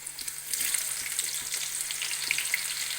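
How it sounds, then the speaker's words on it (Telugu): Bitter gourd pieces fry in hot oil, giving a steady, close crackling sizzle with scattered pops throughout and no voices. "ఈ కాకరకాయ ముక్కలు వేయించుకుందాం."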